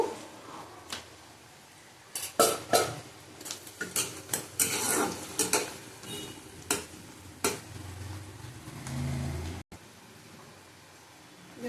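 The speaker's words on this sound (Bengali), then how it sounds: "লাল লাল করে ভেজে নেব পেঁয়াজটা" Onions frying in a pan for a fish roe fritter recipe: a low sizzle beneath loud, irregular clinks and scrapes of a utensil stirring against the pan, in bursts over several seconds.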